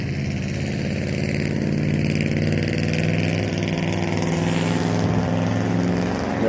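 A police unit's vehicle engine drones steadily as it pulls away from a car accident scene on a boulevard at sunset, a continuous moderately loud rumble with no talk.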